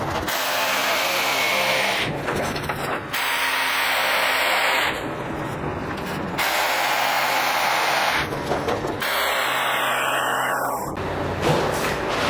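Power drill boring a hole into a ceiling for a rawl bolt during a ceiling duct unit installation, tape marking depth on the bit; loud whirring bursts in four runs separated by short pauses, no talk.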